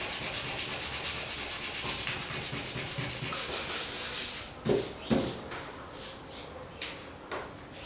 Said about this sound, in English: I'm going to grind it all down now, or sand it all down to the bare metal